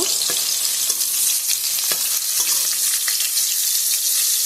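Fish frying in a pan for a sour fish curry, a steady loud hiss of hot oil with scattered sharp crackles and pops throughout, close and continuous with no talking.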